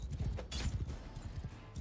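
Horse hooves gallop in the Mount and Blade Bannerlord game, a quick, rhythmic run of close clip-clop beats that carries on for the whole short stretch.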